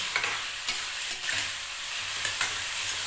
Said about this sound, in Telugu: ఇది ఇప్పుడు కొద్దిగా వేయించాలి